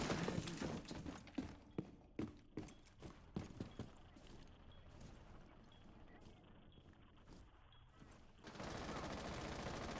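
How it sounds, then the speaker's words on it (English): Gunfire from Rainbow Six Siege during a Fall 2020 college esports match between Marietta College and Michigan State: sharp, loud shot bursts crackle repeatedly over the first four seconds, then give way to a steady low background hum. "We do hear some gunfire going."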